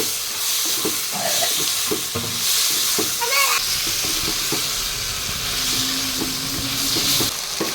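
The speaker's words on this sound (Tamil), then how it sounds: "காயெல்லாம் எண்ணெயிலே சூப்பராக வந்து வதங்கிருக்குங்க" Cubed potatoes and brinjal sautéing in hot oil for a Tamil kuzhambu, with a steady close sizzle and occasional stirring scrapes of a spoon against the pan, no voices.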